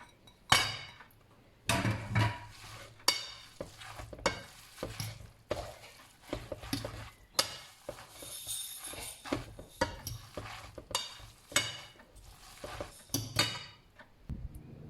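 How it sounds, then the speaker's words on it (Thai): Side ingredients for minced pork laab being stir-fried in a pan, with repeated scraping strokes of a spatula, clinks of utensil on metal and a soft sizzle underneath, in an irregular busy rhythm. "ผัดเครื่องเคียงค่ะ"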